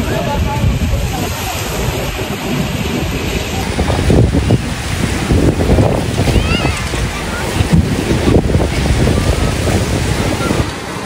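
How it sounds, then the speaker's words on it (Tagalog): Loud, steady roar of strong surf and wind buffeting the microphone at a fish port in Infanta, Quezon, with waves crashing continuously close by and faint voices underneath. "Lalakas ngayon ng alon."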